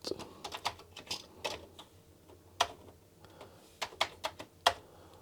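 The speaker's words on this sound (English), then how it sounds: "Even though the keyboard is very filthy, it seems to be working quite good." Typing on a filthy Commodore 64 keyboard with the shift lock engaged, a quiet, irregular run of separate key clacks with short pauses between bursts, heard alone.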